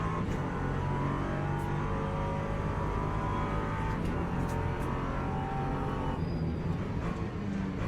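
An LMP2 prototype race car engine from the Le Mans Ultimate racing game drones steadily throughout, with shifting revs and a continuous, fairly distant hum of cars on track.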